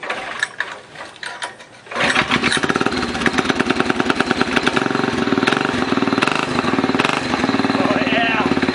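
A Springer mini bike's small engine, fitted with a new kickstarter and throttle, sputters at first and then catches and runs steadily with a rapid, loud mechanical clatter close by.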